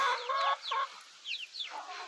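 A chicken clucks in a quick series of short, squawky calls, close by and fairly quiet, with no other sounds around it.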